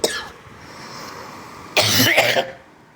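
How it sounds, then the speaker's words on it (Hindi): A man who is feeling unwell coughs into the microphone, a short cough at the start, then a louder close burst of two or three harsh coughs with throat clearing after a quiet pause. "ज़्यादा बोलता हूँ ना, खांसी आ जाती है"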